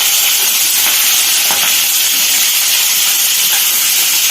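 Oil spattering while frying breakfast on a stormy cyclone day, a loud, dense, continuous hiss and crackle filling the space close up, with faint scattered pops and no voices.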